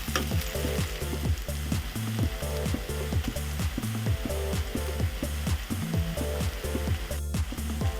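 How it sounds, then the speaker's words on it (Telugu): Ginger garlic paste frying in a pan with onions for a prawn curry, a dense continuous sizzle with steady crackling and rhythmic scraping as it is stirred, close and loud, with no talking. "అల్లం వెల్లుల్లిపాయ పచ్చివాసన పోయేదాకా వేగనిద్దాము"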